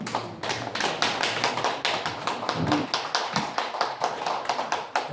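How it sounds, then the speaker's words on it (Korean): A seated audience at a lecture in a Daejeon Christian hall claps steadily in a dense, even burst of applause that fills the room for several seconds. "마지막 강연 김태우 박사님께 큰 박수 부탁드립니다"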